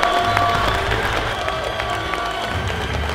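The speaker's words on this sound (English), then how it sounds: "let's give a shining, big fat applause for this bold man" A crowd claps and cheers for a strongman competitor at a Strength Wars League event, steady applause with scattered shouts throughout, fairly loud and without a lead voice.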